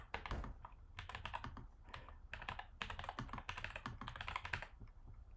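Fast typing on a computer keyboard, close and clear, with bursts of rapid key clicks separated by short pauses as a title is entered.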